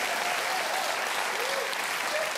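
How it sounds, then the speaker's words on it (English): Steady applause from an audience, a dense wash of clapping hands that holds evenly throughout, fairly loud and close. "Small round of applause for the economy."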